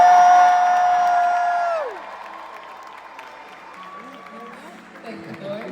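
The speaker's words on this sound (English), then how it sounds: "Let's get a round of applause so it's not awkward whilst I walk." Applause and cheering from a concert crowd in Chicago, first loud and dense, then fading to scattered clapping, with a voice coming in near the end.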